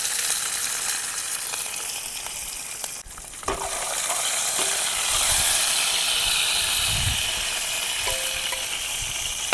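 Curry leaves and green chilies with mustard seeds crackle and sizzle in hot oil, a dense continuous hiss that holds steady and close, with a few faint clinks of a utensil and no talk.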